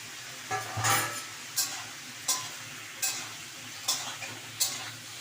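Eggplant and drumsticks stir-fried in a pan with a spice paste for Bengali shukto, heard as a steady sizzle broken by six sharp spatula scrapes at regular intervals, close and moderately loud with no talk.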